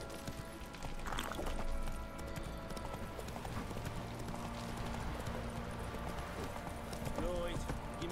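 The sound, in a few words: horse hooves clip-clopping after being urged on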